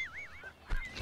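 A goose-like bird gives a quick pair of warbling honks, then a sharper honk with a thump, close and fairly loud.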